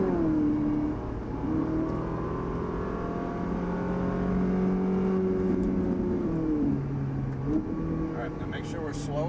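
A Ferrari 458 Italia pulls away on a race track, its engine note rising and shifting in pitch as it climbs through the gears toward fourth, loud and close throughout, with someone talking over it.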